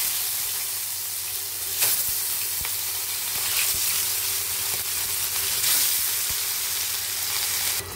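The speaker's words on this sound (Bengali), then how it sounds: "তো এখন দেখুন, মাছের পিসগুলো আমি ছেড়ে দেবো।" Fish pieces hit a well-heated pan of oil for a sour fish curry, producing a loud, steady sizzle with occasional sharp pops and crackles throughout, no speech.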